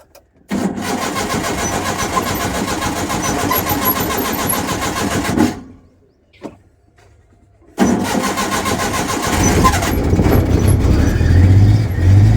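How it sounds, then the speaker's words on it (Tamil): A motor vehicle engine cranks and catches, running loudly for several seconds, then cuts out briefly before being started again and settling into a steady, close idle with a slightly rising rumble. "இப்போ வண்டியை ஸ்டார்ட் பண்ணி பார்க்கணும்"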